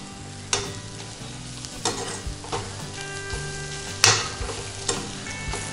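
Chopped chillies and onions frying in a pan for onion chutney, with a steady sizzle broken by several sharp scraping stirs of a spoon against the pan, heard close and without talk.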